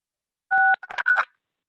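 Telephone keypad tones, one long dual tone followed by a quick run of shorter beeps, close and clear against silence.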